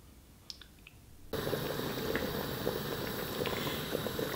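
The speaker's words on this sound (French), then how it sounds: "je vais mettre tous les ingrédients ensemble à bouillir" A pot of vegetables with basil comes to a boil on the stove, with bubbling and hissing that starts abruptly and then runs on steadily at moderate loudness.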